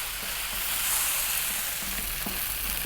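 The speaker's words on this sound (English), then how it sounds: "we need to fry the rice" Rice stir-frying over high heat, giving a loud, dense, continuous sizzle with faint scraping underneath, close and steady throughout.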